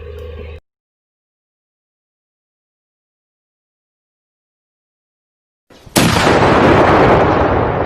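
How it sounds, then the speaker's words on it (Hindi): A firecracker bursts near a bathroom: after a brief sound and a long silence, a sharp, loud bang erupts, followed by a dense crackling, hissing rumble that lingers. "अब देखिए भाई साहब ने कैसे पटाखा फोड़ा और बाथरूम में घुस गए"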